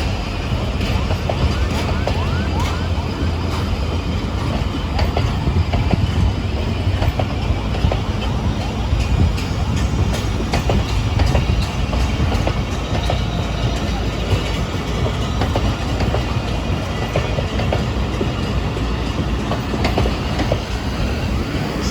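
A seven-coach Ramadan special passenger train rolls through Drigh Road Railway Station in Karachi, a loud, steady rumble with wheel clatter and rail noise that holds throughout.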